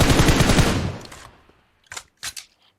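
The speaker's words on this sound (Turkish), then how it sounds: "Sıkıyorum o tarafa." Machine gun fire in the PUBG Mobile battle royale game: a loud sustained burst that fades out, followed by two short, sharp bursts, with no talk over it.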